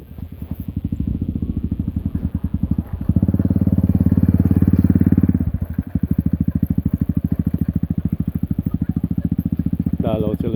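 A single motorcycle engine putters steadily nearby on a rural road, swelling louder for a few seconds as it passes, with rattling clatter throughout.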